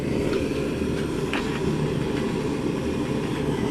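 A pot lid rattles on a rocket stove burning at full heat, with faint light clinks sitting over a loud, steady low roar from the flames.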